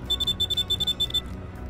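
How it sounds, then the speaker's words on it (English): A harvester's low-fuel warning beeps in quick, evenly spaced electronic tones, about a dozen close and loud ones, then stops, leaving only low machine rumble. "the beeping is driving me absolutely bonkers"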